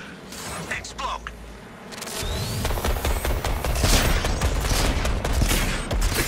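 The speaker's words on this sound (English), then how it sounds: "Excuse my bullet spread, Deadshot." Rapid sustained gunfire in the video game Suicide Squad: Kill the Justice League, a dense loud fusillade of shots with mechanical clatter that starts after a quieter opening and continues to the end.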